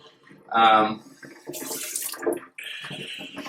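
Tap water runs and splashes in a kitchen while shredded potatoes are rinsed, the flow gushing in uneven bursts alongside handling noises and a voice in the room.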